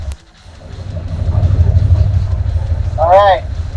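A car pulling away to start a driving test of RMSTATOR products, a low steady engine rumble building up and held close, with a short burst of speech near the end.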